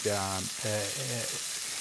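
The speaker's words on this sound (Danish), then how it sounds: "Det jeg godt kan lide ved, når man steger bøffer, det er hele tiden at vende den." Steaks frying in a pan give a steady, close sizzle that runs through the whole moment, with a voice speaking briefly over the start.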